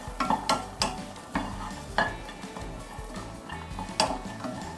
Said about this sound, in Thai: ใส่ลงไปเลยค่ะ เราเอาไปคั่วนะคะให้พอสุก